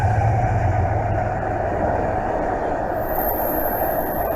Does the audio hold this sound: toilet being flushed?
no